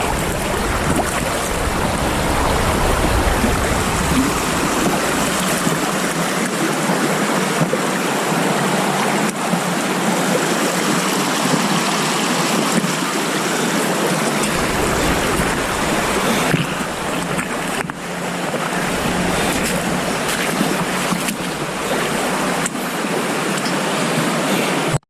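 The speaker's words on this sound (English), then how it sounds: "we're in another creek now" Creek water flows steadily and close by, a broad continuous rush with splashing texture that holds at a constant level throughout, with no voices over it.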